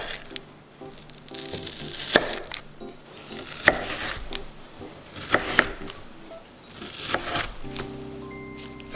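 A knife cutting a frozen block of homemade Korean vegetable stock into cubes, with irregular close taps, crunches and board knocks amid light handling noise.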